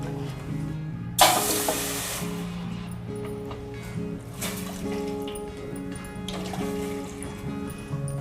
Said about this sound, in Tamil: முதல்ல 3 கப் தண்ணி.